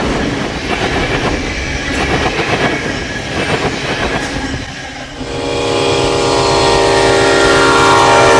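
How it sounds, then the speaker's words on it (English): Westbound California Zephyr passenger train pulling out of its Stockton station stop and crossing the Santa Fe line, a loud, steady roar of wheels and rails with clickety-clack rhythm, swelling into a closer, harsher rumble midway. "Westbound California Zephyr Train 17 comes out of its station stop at Stockton and crosses the Santa"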